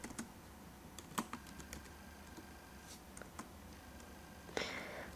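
Keys on a computer keyboard are tapped to enter a username during Windows 8 Release Preview setup, a few soft, irregular clicks close by in an otherwise quiet room.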